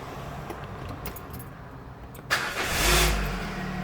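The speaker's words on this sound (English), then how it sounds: "I'm gonna start the engine again." A Peugeot 307 CC car engine is cranked and fires up after a brief jangle of keys, catching with a short rising rev and settling into a low rumble, close by.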